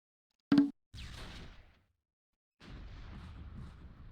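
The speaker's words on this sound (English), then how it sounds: "I heard cannon fire." Cannon fire in the Close Combat war game: a sharp, loud blast followed by a rumbling rolling boom, then a second, longer rumbling burst after a short silence.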